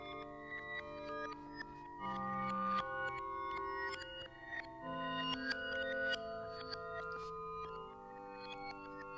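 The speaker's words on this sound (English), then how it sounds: "even though you are only going to hear the chimes, they are still here, but in a more reverse ambience way" Reversed chime ambience, with sustained layered tones swelling and fading in a soft wash, bright high-register shimmers scattered over steady mid tones, continuous with no speech.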